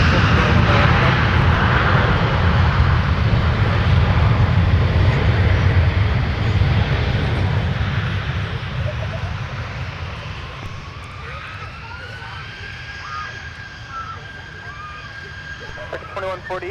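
An American airliner at Minneapolis–St Paul airport, a loud broad engine roar close at first that slowly fades as a rising whine emerges, with radio chatter faintly in the background.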